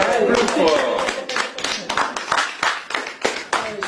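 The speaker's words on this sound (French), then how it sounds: "Ça mérite un applaudissement." Applause from a small gathered group, a scattering of uneven handclaps that builds into quicker, sharper claps toward the end, with people talking and cheering over the top.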